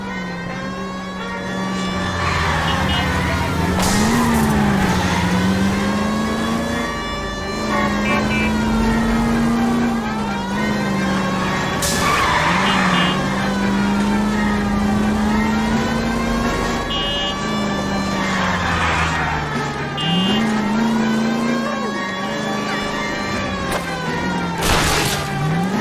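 Sirens wail continuously through a car chase after a Lincoln in the video game L.A. Noire, with rising and falling tones over steady engine roar, loud and close throughout.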